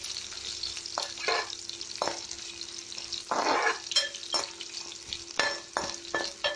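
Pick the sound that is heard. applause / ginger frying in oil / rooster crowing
ginger frying in oil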